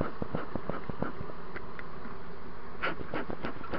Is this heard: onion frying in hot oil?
no